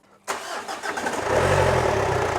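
A 2010 Ford Ranger's 3.0L diesel engine cranks and fires after a short silence, then climbs into a loud, steady high rev held close to the microphone.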